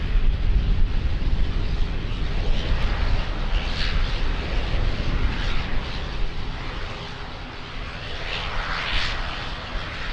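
A jet airliner takes off on runway 02 at Lisbon Airport, its engines a loud, steady broadband roar that fills the whole stretch, swelling slightly then easing as it passes.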